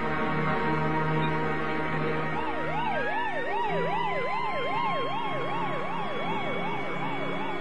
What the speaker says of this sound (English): As the ambulance rushed off to the hospital